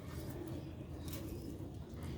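A Sialkoti pigeon of an old original Sialkot breed coos low and steadily, partly buried in constant broadband background noise.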